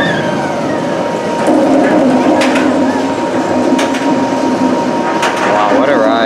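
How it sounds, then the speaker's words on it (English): Roller coaster train passing at Silver Dollar City theme park near a tight corkscrew, a steady rumbling roar running under bird coos and nearby voices for several seconds. "Here comes the train."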